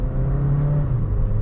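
A Volkswagen Virtus pulls away from a standstill in drive, its engine note a close, steady rising whir and rumble with no voices.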